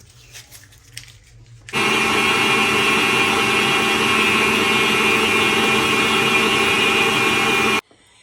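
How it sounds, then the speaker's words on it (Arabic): Electric mixer beating butter and sugar until creamy, a steady, loud motor whir with rattling beaters that starts abruptly after a quiet moment, runs continuously for about six seconds, then stops. "دابا ندور عليهم الماكينه حتى يولي بوماد"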